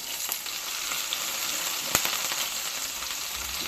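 Chopped onion, chili and garlic fry in hot cooking oil with a steady, dense sizzle, near and continuous, one sharp clink partway through and no voices.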